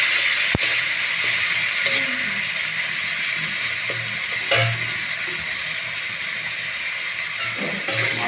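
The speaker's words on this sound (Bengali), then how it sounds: "মশলাটা ভাজা ভাজা হয়ে এসছে" Ground spices with turmeric and salt fry in a pan, giving a steady hiss throughout with a few soft scrapes and knocks as they are stirred.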